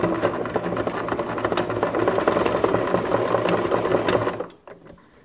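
A sewing machine runs a zigzag stitch, a loud, fast, even mechanical chatter that carries on for several seconds before stopping abruptly, with no voices over it.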